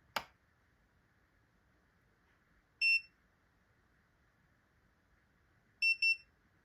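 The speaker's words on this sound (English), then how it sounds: "Or until you hear the 3 beeps." A Jadens thermal printer gives three short, high electronic beeps in a quiet room: a single beep near the middle, then a quick pair of beeps close together near the end.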